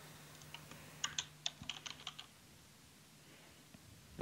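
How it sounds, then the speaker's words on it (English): Computer keyboard typed on in a short burst of about a dozen quick, light clicks at a moderate distance, followed by quiet room tone, with no talking. "And you'll type in Python."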